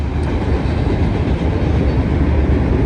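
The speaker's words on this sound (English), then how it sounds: "A lot of trains out here." A train passes close by with a loud, steady rumble and rolling rail noise. It continues evenly throughout, and no voices are heard.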